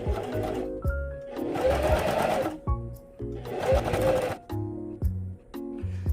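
A sewing machine stitches a folded T-shirt hem in bursts of fast, loud mechanical whirring, with brief pauses between runs and the motor's hum stopping and restarting.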